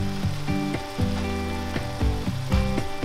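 Cooked ground beef sizzles in a pan as ketchup and tomato paste are added, a close, steady crackling fry with soft stirring scrapes throughout.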